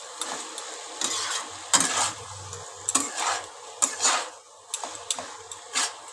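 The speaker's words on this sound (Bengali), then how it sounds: "ভালো করে নেড়ে নিচ্ছি পাস্তাটাকে।" Pasta tossed with vegetables in a pan, irregular scraping and knocking of a spoon against the pan over a light sizzle, close by with uneven bursts and short pauses.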